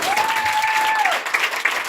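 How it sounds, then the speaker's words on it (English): Applause from an audience at a women's empowerment gala, a steady wash of many hands clapping at close range, with a faint whistle-like tone gliding through the first second. "Give yourselves a round of applause."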